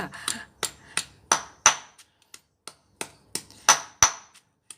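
A wooden mortar and pestle pounds Thai chili paste for khanom jin nam ngiao in steady, sharp, close thuds, about ten strikes with a short pause midway, each blow ringing briefly.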